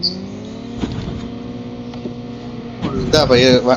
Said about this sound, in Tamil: இந்த இன்னொரு வண்டி போகுது